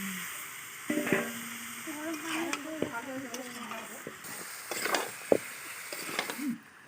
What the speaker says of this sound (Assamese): কোমোৰা দি পেলাই কোমোৰাখিনি নিসিজালৈকে ভাজি থাকিম